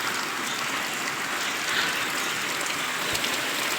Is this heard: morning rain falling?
yes